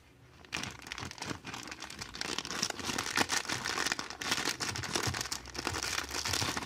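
A candy gift package wrapper is torn open and crinkled, with steady rustling and crackling of plastic close by for several seconds after a brief quiet start.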